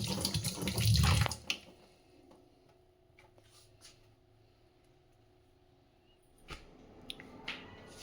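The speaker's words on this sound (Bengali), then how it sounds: "এগুলো সব ধোয়া তোলা পরিষ্কার করে করে এটা কিন্তু একটা খুব বড় কাজ।" Running tap water splashes loudly as things are washed under it in a kitchen for about a second and a half, then fades to quiet room tone with scattered faint clinks.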